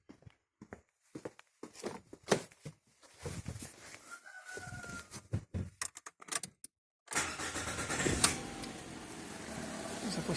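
A Lada Granta with the 11182 engine and a misfire fault being started, first a run of sharp clicks and short bursts, then the engine catching and settling into a steady idle for the last few seconds.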